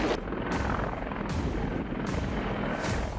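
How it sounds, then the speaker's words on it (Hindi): Russian Mi-14 anti-submarine military helicopter, loud and close, with a steady heavy rumble broken by rhythmic broadband rotor pulses about every three-quarters of a second, no voices. "ये रूसी सेना का ऐसा एंटी सबमरीन हेलीकॉप्टर है जो न्यूक्लियर अटैक कर सकता है"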